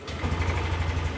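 A Yamaha NMAX scooter engine runs at idle, holding a steady low throbbing hum close by after a brief start at the outset, with no voices over it.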